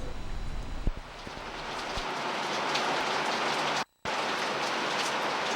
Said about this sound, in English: it's raining pretty heavily down here now